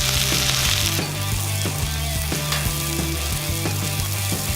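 Eggs fry on a Blackstone griddle with a loud, steady, close sizzle that carries through the whole stretch, backed by faint tonal background sound.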